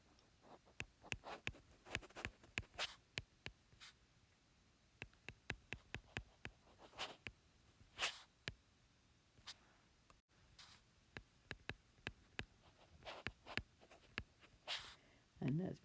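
Pen or pencil writing by hand on paper during a math lesson, heard as a series of short, close, crisp scratches and ticks in irregular bursts, with quiet gaps between strokes.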